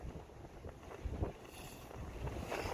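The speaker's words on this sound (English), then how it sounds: "Starting to get very windy here." Strong wind gusts buffet a campsite in the hills during a storm with gusts up to 65 mph, roaring continuously with swelling surges and rumbling microphone buffeting, no talking.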